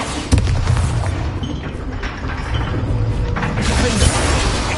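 A Bombarda spell blast in Hogwarts Legacy, a heavy, loud rumbling explosion with cracking debris and mechanical clatter, sustained over the whole moment with a sharp hit near the start and a swell near the end.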